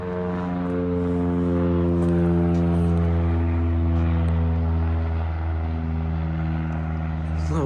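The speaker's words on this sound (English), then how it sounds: "Little plane going overhead." A small propeller plane passes overhead, producing a steady, buzzing drone that swells gently and then eases off, heard alone outdoors.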